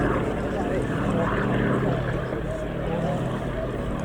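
A Fairey Swordfish biplane from the Navy Wings Heritage Flight flies past at the RAF Cosford Airshow, its steady propeller engine drone filling the air under continuous commentary.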